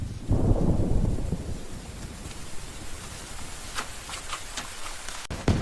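A cartoon storm opens with a heavy rolling thunderclap, then settles into a steady hiss of rain pattering on surfaces, with a sharp crack near the end.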